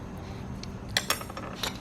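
A metal spoon clinks against a jar or dish while peppermint moonshine is tasted, a couple of bright, close ticks and a faint later clink over quiet room tone.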